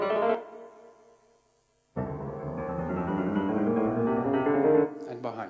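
A synthesized musical tone, a radar echo from a target in front of the radar, plays as a sustained buzzy note that gradually rises in pitch after a short quieter tone and gap, then stops.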